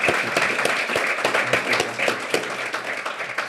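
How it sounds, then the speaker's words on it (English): A crowd applauds steadily, dense overlapping claps filling the space at a fairly loud, even level. "let's give him a round of applause again"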